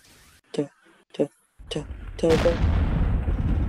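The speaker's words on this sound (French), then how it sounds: "Léonard, plus de tir au canon, fais attention." A few short voice bursts are followed by a loud booming blast that rolls into sustained rumbling noise, like cannon fire in a game.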